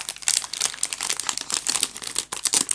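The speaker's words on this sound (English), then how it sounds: "all that I need to do now is to attempt to put these back into their envelopes" Paper battle mats crinkle and rustle as they are slid back into paper envelopes: close, busy crumpling and scuffing sounds in quick bursts, with no voice.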